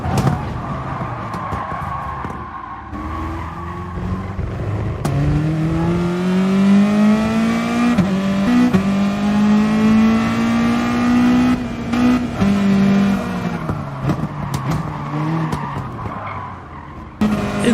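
Race cars in a racing video game battle closely, one bumping another wide: a loud, continuous engine whine rises and falls in pitch, with tyre skids and brief contact noises throughout and no speech.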